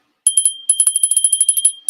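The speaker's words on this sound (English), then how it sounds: "The Victorian era bell." A Victorian-era hand bell rings alone in a quick run of about fifteen bright, high metallic dings, close and steady after a brief silence.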